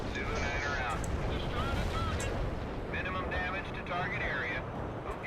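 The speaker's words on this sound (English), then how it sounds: "I'm blowing up buildings." Buildings blowing up in the combat game World in Conflict, a steady roar of explosions and battlefield rumble with occasional sharper blasts, loud and continuous beneath someone talking.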